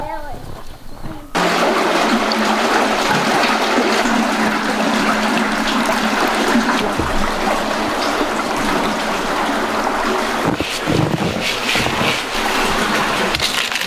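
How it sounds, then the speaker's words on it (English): Creek water rushes and splashes loudly and steadily as water is collected from a creek in Alaska, a dense continuous flow starting abruptly after a brief moment of quieter sound. "I'm gonna run down to the creek, refill our water,"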